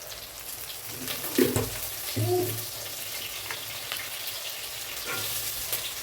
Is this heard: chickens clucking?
no